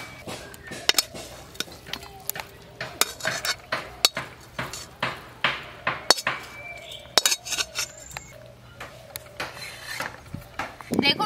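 Muri ghonto is poured and scraped out of a metal cooking pan, with a steady series of sharp, close clinks and scrapes of a spoon against the pan, each followed by a short ring.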